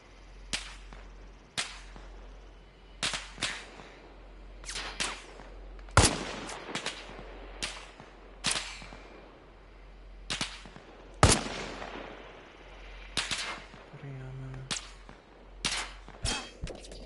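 Rifle gunfire in the military shooter Arma Reforger: a series of sharp, loud single shots at irregular intervals, some nearer and some more distant, with faint background noise and no talk.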